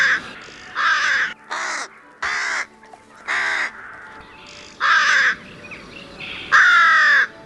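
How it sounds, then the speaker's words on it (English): A carrion crow gives a run of hoarse, rasping caws, seven evenly spaced calls, loud and near against a quiet background. "It is completely black and makes a hoarse cawing sound."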